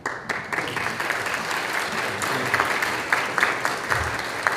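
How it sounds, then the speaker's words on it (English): Parish church congregation giving a sustained round of applause, many hands clapping in a dense, steady patter that carries on for several seconds with no talk over it. "did they clap because he's done?"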